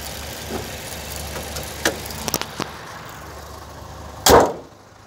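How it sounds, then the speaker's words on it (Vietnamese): A 2016 Toyota Innova with a 2.0 engine and automatic transmission idles smoothly with a quiet, steady low hum, broken by a few brief clicks and a louder thump near the end. "Máy nổ êm, khô ráo sạch sẽ"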